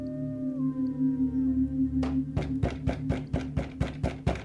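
A distant, drawn-out howl in a Halloween haunted-castle story, sliding downward over about two seconds, then followed by a rhythmic series of knocks on a door, each sharp and evenly spaced.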